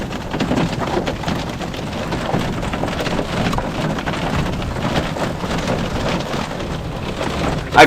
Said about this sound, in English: I've definitely been in worse hailstorms